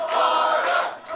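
A wrestling crowd at a student showcase at the Nightmare Factory, a brief loud burst of massed cheering and shouting that dips briefly near the end.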